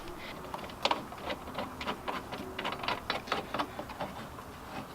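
A hand ratchet spins bolts onto a custom strut bar on a Chevrolet Camaro, making a quick series of light metallic clicks in uneven bursts, close and fairly quiet, with no talk.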